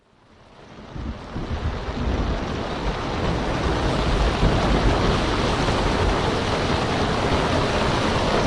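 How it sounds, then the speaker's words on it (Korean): A stormy sea roars with wind and crashing surf, building from quiet to a dense, loud, continuous wash of noise that holds steady without any voices. "그러던 어느 날 바다에 아주 심한 폭풍우가 불었어요."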